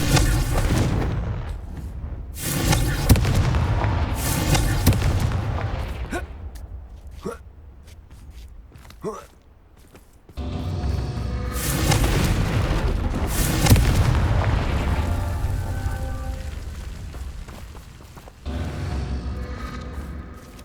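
Fiery Confringo spell blasts in Hogwarts Legacy, a string of heavy booming explosions with roaring sustained rumbles, loud and close, separated by brief quieter gaps.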